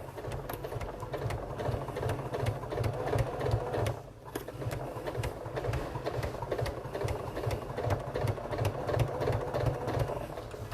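A sewing machine runs steadily at close range, stitching slowly along the ditch of a crease while a bag is made. Its rapid, even mechanical chatter continues almost unbroken, dipping once briefly before resuming.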